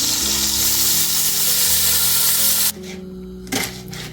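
Butter melts in a hot pan for a chicken pot recipe, giving a loud, bright, hissing sizzle that holds steady for almost three seconds, then drops off abruptly to a faint crackle with a brief clatter.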